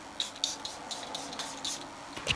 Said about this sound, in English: I'm gonna spray a lot